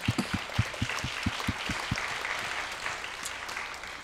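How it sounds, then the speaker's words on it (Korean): A church congregation claps in praise after a prayer, starting with a few distinct rhythmic claps and spreading into a softer, blended wash of applause that lingers at moderate distance. "우리 하나님께 영광의 박수를 올려드리겠습니다."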